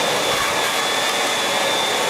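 A steady, loud motorized whir with a high hiss, like a portable carpet cleaner running continuously with no pauses.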